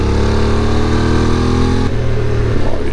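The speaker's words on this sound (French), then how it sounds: "Et la moto est plutôt à l'aise." QJ SRT600SX motorcycle carving through bends on a Pyrenean mountain pass, its engine droning steadily with a gear or throttle change midway, close and loud throughout.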